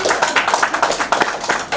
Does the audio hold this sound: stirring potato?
no